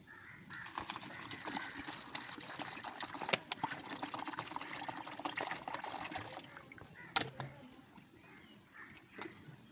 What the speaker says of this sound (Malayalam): ഇനി നമുക്ക് ഇതിലോട്ട് മോര് ഒഴിക്കാം.